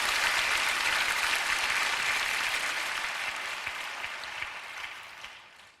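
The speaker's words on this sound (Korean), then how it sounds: "하나님께 박수 올려드리시죠." Congregation applause at a church prayer gathering, a dense wash of many hands clapping that gradually fades over several seconds.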